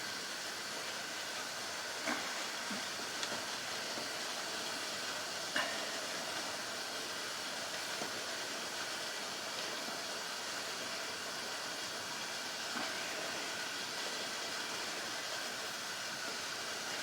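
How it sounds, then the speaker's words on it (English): A water bath canner boils steadily nearby during home canning of apple pie filling, giving a continuous low hiss and bubbling roar with a few faint clicks and clinks on top and no talking. "My water bath over there is boiling."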